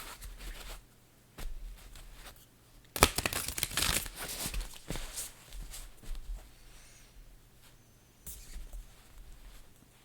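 Tarot cards are shuffled up close with a burst of quick papery riffling and rustling, followed by softer scattered card slides and taps.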